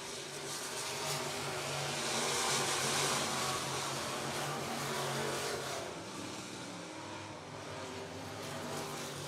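B-Mod race cars roar around a dirt speedway during a heat race, a steady wash of engine noise from a pack of cars at a distance, swelling and fading slightly with no voices.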